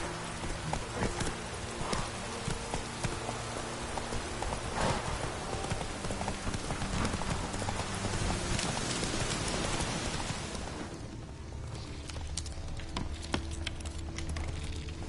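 Roach the horse gallops in The Witcher 3, a steady, rapid drumming of hoofbeats mixed with a hiss like rain, continuous and fairly faint, thinning out toward the end.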